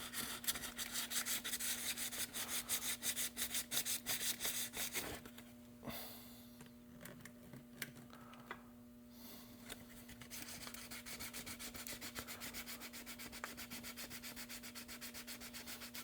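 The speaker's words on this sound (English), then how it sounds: "Sand her down." An RC truck body being sanded by hand with 320 grit sandpaper, close rhythmic scratchy strokes that pause briefly midway, then resume steadily, with no talk.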